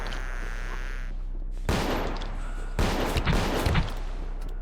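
AK rifle gunfire in the Space Station 14 video game, loud close automatic bursts arriving in two main volleys of rapid shots over a steady low hum.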